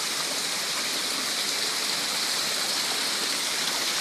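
Loud, steady rushing floodwater after heavy rain fills the whole clip, a dense unbroken roar like a fast flooding stream, with no voices.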